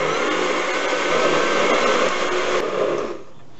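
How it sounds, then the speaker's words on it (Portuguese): Blender whirring as it mixes strawberry cake batter with baking powder, a loud steady motor roar lasting about three seconds before cutting off abruptly. "E agora voltamos a bater."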